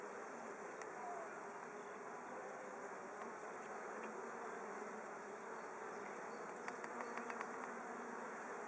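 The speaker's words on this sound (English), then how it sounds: "I've released the queen into the hive. They're actually attending to her." Honey bees in a hive after a queen is released hum in a dense, continuous buzzing drone, close and steady throughout, with a few faint light clicks near the end.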